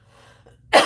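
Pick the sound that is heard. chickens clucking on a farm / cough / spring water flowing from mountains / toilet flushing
cough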